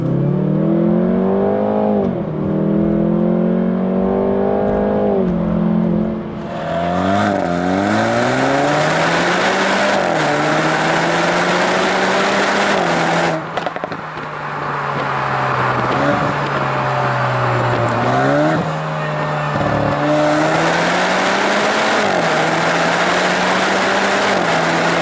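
A Jaguar F-Type with a 2.0L engine and automatic gearbox accelerates hard with its noisy exhaust mode on, revs rising and dropping through several gear changes in a loud, raspy, continuous drone, heard from inside the car.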